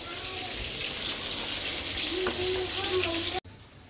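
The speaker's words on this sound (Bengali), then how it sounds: "এখানে যে মাছগুলো ভাজা বাকি ছিল সে মাছগুলো ভেজে নিচ্ছি" Fish frying in a pan gives a continuous soft sizzle and crackle, fairly close, with a brief faint tone in the middle, and the sound cuts off abruptly near the end.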